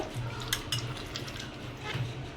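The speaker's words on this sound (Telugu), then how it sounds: "ఇగో ఈ పిప్పి అంతా తీసేసిన పులుసు పోస్తున్నా." Strained tamarind juice pours into a pan of fish curry with a faint liquid splashing, quiet and brief, over a low steady hum.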